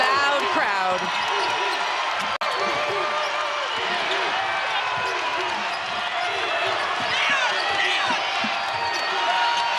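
Continuous loud crowd roar at a college basketball game involving Iowa State, with sneakers squeaking and balls bouncing on the court while a commentator talks over it.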